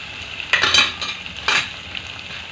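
Tomato goes into frying onions for Gujarati dal, a close sizzle with two sharp bursts of stirring and utensil scraping against the pan.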